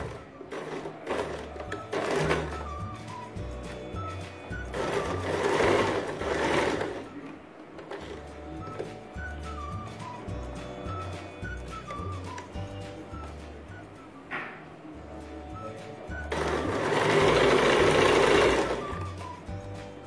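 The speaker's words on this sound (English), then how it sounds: "Now I am stitching the sides of the bodies." A sewing machine stitches the side seams of a kurti, its motor running in steady rapid bursts with brief pauses, close and loud, the needle rattling rhythmically throughout.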